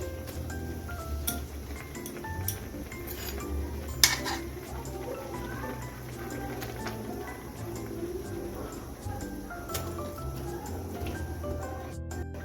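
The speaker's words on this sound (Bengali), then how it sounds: "এখন গ্রেভির সঙ্গে ভালো করে পনিরটাকে মিশিয়ে নিচ্ছি" Paneer is stirred into tomato gravy in a pan, with soft, scattered clinks and scrapes of a utensil against the metal over a steady low background.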